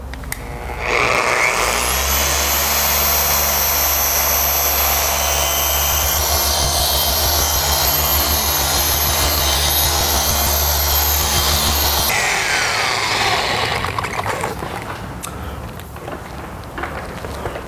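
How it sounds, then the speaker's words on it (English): A machine polisher runs at speed setting six across a black car's paint, a loud steady whirring drone that spins up near the start, holds for about ten seconds, then winds down and stops. "we're gonna go to speed setting six. Gonna start polishing."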